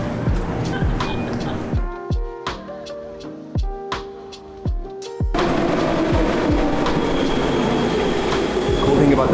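An Athens metro train runs close by, its wheels clattering in a rhythmic clickety-clack of sharp rail joints, then a loud sustained roar with squealing wheels as it speeds up.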